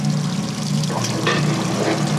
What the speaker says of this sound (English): it turns the water on before it even fucking goes for the spin